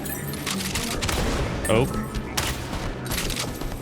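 Automatic rifle fire in the survival crafting video game Colonies of the Remnant, a dense stream of sharp shots running steadily throughout at a loud, close level, with a brief voice calling out partway through.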